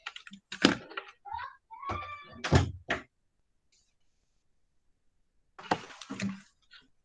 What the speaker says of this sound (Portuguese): Deixa eu só fechar a porta direito ali.